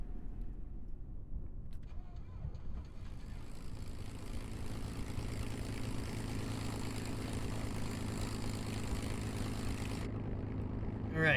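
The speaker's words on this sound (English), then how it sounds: "You are clear for departure and immediate takeoff." A propeller aircraft in Kerbal Space Program throttles up for takeoff, its engine drone rising from quiet to a loud steady roar that holds, then cuts off sharply near the end.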